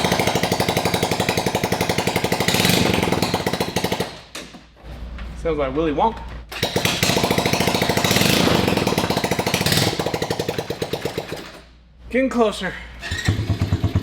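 A mini jeep engine, fitted with a new clutch and starter, cranks and runs with a loud, rough, rapid chatter. It cuts out twice in brief gaps as people talk between bursts.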